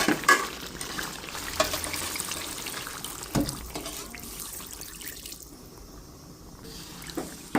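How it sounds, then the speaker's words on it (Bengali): Broth water poured into a nonstick pot of beef and potatoes, a steady splashing pour with a few louder clinks and bumps, close and alone without talk. "আমি এখন ঝোলের পানি দিয়ে দিব।"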